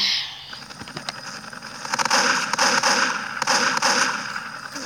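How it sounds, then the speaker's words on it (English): Video game gunfire crackles in rapid bursts of sharp reports over a busy game soundscape, moderately loud and without speech. "A lot of shooting going on."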